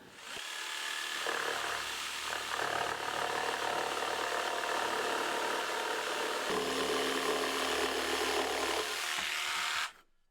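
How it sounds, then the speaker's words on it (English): A jigsaw cuts a traced curved shape from a piece of wood for a saw stand, a steady, loud, buzzing rasp that runs near-continuously for about ten seconds before stopping abruptly, with no voices. "then I can get this cut on the jigsaw"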